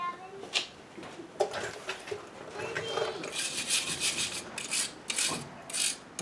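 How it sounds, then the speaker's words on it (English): A brush scrubs a brake banjo fitting on a 2004 GMC Sierra 1500 with quick, close, raspy bristle strokes in an uneven rhythm, fairly quiet throughout. "I was just going to brush this banjo fitting off a little bit."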